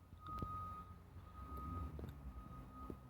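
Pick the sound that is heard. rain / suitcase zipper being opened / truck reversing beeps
truck reversing beeps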